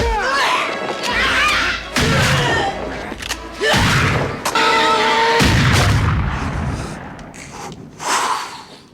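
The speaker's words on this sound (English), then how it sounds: "we never see him reload it during those 4 shots out of a double-barrel shotgun" Loud double-barrel shotgun blasts from the film Army of Darkness, four heavy booms spaced a second or so apart, mixed with creature snorts, crashes and dramatic film sound.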